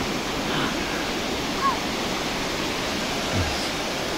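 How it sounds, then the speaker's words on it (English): Ocean waves wash in on a beach, a steady broadband hiss of surf with gentle swells. "As the waves come in."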